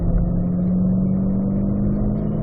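A car pulling hard in third gear down a racetrack straightaway, its mid-pitched engine a steady, loud drone with a constant tone throughout, no voices over it.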